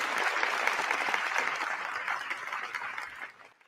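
An audience claps steadily in dense applause that fades out near the end.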